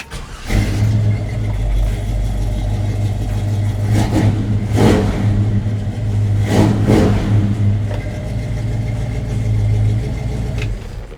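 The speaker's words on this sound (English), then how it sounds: "it's got a very mean, aggressive sound to it, which I'll start up and show you" A 1968 Chevrolet K20 pickup's big V8 engine turns over and catches, then idles with a deep rumble, revving up several times in strong bursts before settling back.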